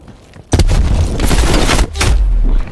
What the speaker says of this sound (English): Send him frag grenade.